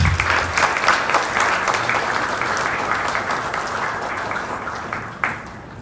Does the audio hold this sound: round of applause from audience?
yes